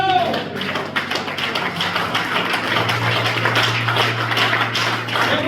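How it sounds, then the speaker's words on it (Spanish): A church congregation claps loudly for God in a steady, dense wave of applause that fills the room, with voices faintly mixed in beneath the clapping. "Dame una fuerte aplauso a Dios."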